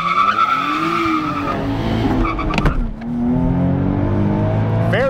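A 2023 Nissan Z sports car with 400 horsepower revs up and roars through hard acceleration from a stop with rising pitch and gear shifts, loud and close, ending in a high whine.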